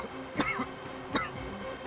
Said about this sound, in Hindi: उन्हें ऐसे ही खांसी आती है